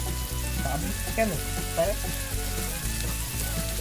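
Onions with salt sizzle and fry steadily in a pan for a village-style chicken curry, a constant close crackle with occasional stirring scrapes, and a voice speaks briefly over it.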